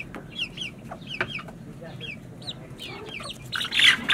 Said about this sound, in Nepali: भाले पनि खानु खोज्दैछ आज